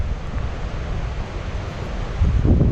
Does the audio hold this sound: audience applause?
no